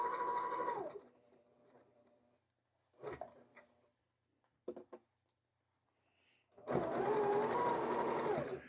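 Sewing machine with a 1/4 inch presser foot stitching quilt rows, a steady run that pauses with faint clicks and handling noises, then starts stitching again loudly.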